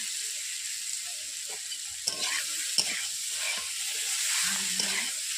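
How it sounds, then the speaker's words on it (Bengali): Vegetables for shukto are sautéed in oil in a pan. A steady hissing sizzle runs throughout at moderate level, broken by a few spatula scrapes and stirs, close by and with no talking. "বন্ধুরা দেখতেই পাচ্ছেন সবজিগুলো দিয়ে আমি শুকনাগুলো সবজি কষিয়ে নিচ্ছি এইভাবে।"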